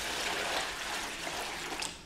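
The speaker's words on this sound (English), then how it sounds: "so we're going to add some water" Water is poured into a sand and cement mix on a spot board, giving a brief, steady close splashing pour.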